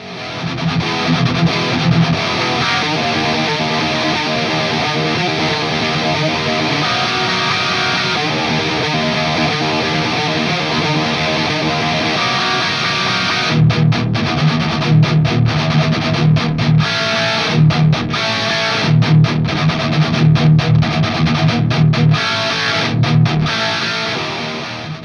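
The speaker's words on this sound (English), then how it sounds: "So I guess the blue channel also does high gain rock really well." Electric guitar through the blue channel of an EVH 5150III 50W 6L6 amp at high gain plays a dense, distorted rock riff: sustained chunky chords first, then choppy palm-muted stops and stabs, loud and continuous with no talking.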